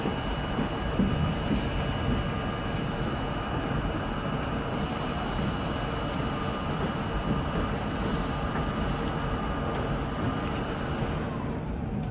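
A 1964 Budd Co. R32 subway train runs on a Jamaica Center bound Z skip-stop line in New York City, giving a steady, loud rumble of wheels on rails that holds through the whole stretch without pause.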